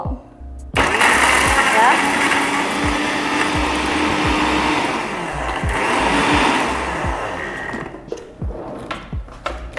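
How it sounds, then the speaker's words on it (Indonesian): An electric blender coarsely grinds chili and shrimp paste ingredients, a loud whirring motor that starts abruptly, runs steadily for several seconds, then cuts off with rattling taps, and a voice briefly speaks near the end. "setelah itu kita blender kasar"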